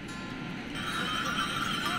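Horse neighing on a mountain trek, a clear, fairly close whinny rising partway through over a steady outdoor background, with faint hoof clops.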